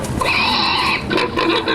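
Pigs grunt and squeal at a trough, a loud, close burst of nasal oinking with a sustained squeal followed by shorter grunts.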